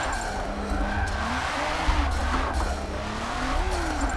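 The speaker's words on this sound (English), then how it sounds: "I guess that man in that Porsche is drifting." In the Forza 7 racing game, a Porsche drifts through a corner with a drawn-out tire squeal over a steady engine roar. The screech wavers in pitch for about four seconds at a fairly loud level.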